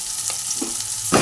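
Onion with a pinch of salt frying in a pan, a steady close sizzle with a couple of soft stirring scrapes, ending in a louder burst of crackling.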